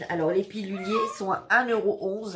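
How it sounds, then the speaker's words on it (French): A house cat meows insistently to be let outside, with several drawn-out, rising-and-falling cries mixed in with someone speaking French close by. "c'est mon chat qui veut sortir"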